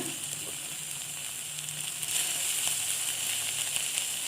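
Hibiscus flowers sauté in a pan for a quick home recipe, giving a steady, close sizzle and frying hiss that swells slightly midway and continues alone, with no talking.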